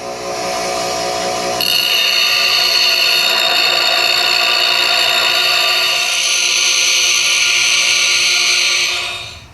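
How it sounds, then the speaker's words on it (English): A power grinder takes down a Snap-on wrench to thin it, giving a loud, close, continuous high-pitched metallic whine with a grinding rasp that holds steady for several seconds before trailing off. "We're gonna grind this one down."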